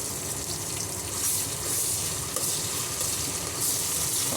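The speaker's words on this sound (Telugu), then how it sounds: "ఒక నిమిషం పచ్చి వాసన పోయే వరకు ఫ్రై చేసుకుందాము" Onions with ginger garlic paste frying in a pan for veg pulao give a steady, close sizzle with a bright hiss that swells and eases slightly throughout, and no talk over it.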